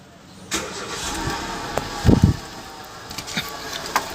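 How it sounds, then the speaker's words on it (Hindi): A car engine cranks and catches after a radiator coolant flush, a brief loud starter burst settling into a steady, fairly close idle. "अभी फिर से कार को ऑन करते हैं आइडल पे।"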